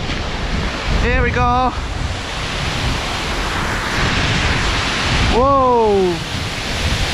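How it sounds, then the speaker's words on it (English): A streamy, rocky waterfall near Smoo Cave in Scotland rushes as a steady broadband roar, buffeted by wind noise on the microphone, with a person briefly exclaiming. "A bit of a streamy, rocky waterfall."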